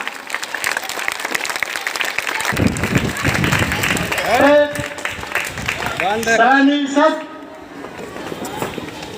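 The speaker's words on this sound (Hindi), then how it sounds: "तालियां" Schoolchildren applauding at a government middle school's 75th Independence Day celebration in Chirand, Saran, a loud burst of clapping that swells with excited voices and cheering shouts before dying down.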